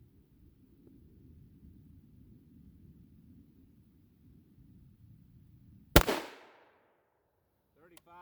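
A single sharp gunshot fires an expanding bullet at Level IV body armor, a loud close crack after several seconds of quiet background, followed by a brief decaying echo and a faint clatter.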